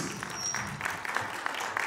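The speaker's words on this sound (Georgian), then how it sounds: "ხარი აპლოდისმენტები ლიზი ბიჭიკაშვილს" Applause from an audience at a children's folk ensemble's concert, a soft, even patter of many hands clapping, moderately distant.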